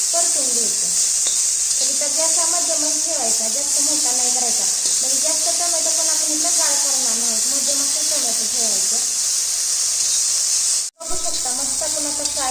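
Steady loud sizzle of tomatoes and green chillies frying on a medium gas flame for a chilli thecha, a constant hiss with a voice talking over it.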